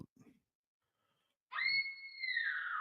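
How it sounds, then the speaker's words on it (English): A high, sustained scream from the 1981 horror film Halloween II trailer, rising sharply and holding for over a second, heard alone after a short quiet gap following a brief muffled bit at the start. "Did you hear the scream?"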